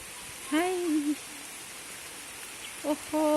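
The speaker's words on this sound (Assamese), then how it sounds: "ইমান বৰষুণ দিছে বৰষুণৰ বতৰ বৰষুণ পূৰা আহিছে" A steady, dense hiss of heavy rain fills the whole stretch, broken by a couple of brief hooting calls.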